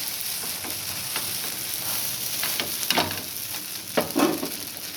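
An egg masala dosa cooks on a pan with a continuous moderate sizzle, broken by a few soft scrapes and taps from a spatula, with no voices.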